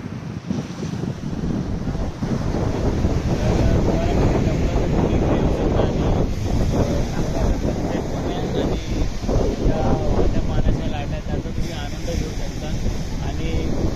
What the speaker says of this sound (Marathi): पाण्याच्या लाटा